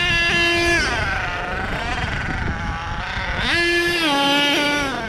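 HPI Savage XL nitro RC truck engine revving hard during a wheelie, a loud continuous high-pitched whine that rises and falls in pitch twice, close and dominant throughout.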